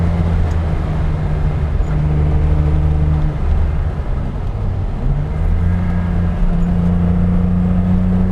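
A BMW 635 CSi, Hartge-tuned, with its six-cylinder engine running steadily at close range, a continuous low drone whose pitch dips and rises slightly as the revs shift.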